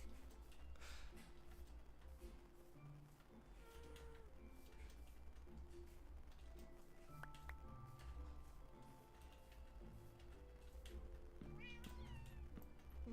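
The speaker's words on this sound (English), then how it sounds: "I hear them meow and I just feel such an urge to mimic it." Soft, intermittent cat meows from a Minecraft cat, several short calls spread across quiet game ambience with light taps and clicks.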